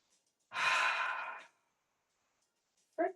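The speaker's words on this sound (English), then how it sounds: "3 deep breaths here." A single long, airy exhale like a deep sigh during a mat pilates stretch, close and fairly loud, lasting about a second, followed by quiet and a brief voiced breath or murmur at the end.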